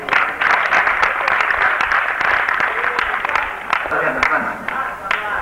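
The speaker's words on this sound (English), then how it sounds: "Please, I'd like to give him applause for Mr. Melvin Sola and Crowley." Audience applause at a 1984 E.R. Squibb national sales conference: dense, steady clapping from a large room that swells and holds for several seconds, with cheering and voices mixed in.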